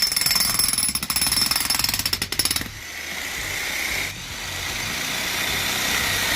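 Electric hammer driving a stake into the ground while rebuilding a backyard deck, loud rapid pounding for about two and a half seconds, then a steady motor-like rumble continues to the end.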